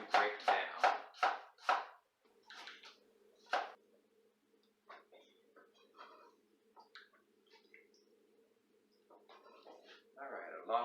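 A knife thinly slicing apples on a cutting board gives a quick run of close, crisp chops, then scattered softer cuts while a person talks.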